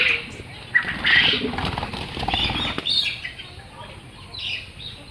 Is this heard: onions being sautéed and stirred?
no